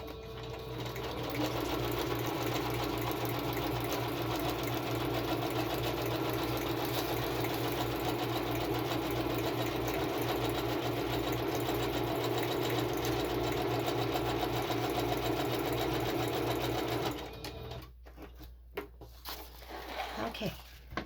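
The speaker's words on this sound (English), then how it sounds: "And then we're going to sew all the way around" A sewing machine runs around the edge of a paper journal pattern, a loud steady motorized hum with rapid needle ticking for most of the stretch, then stopping near the end.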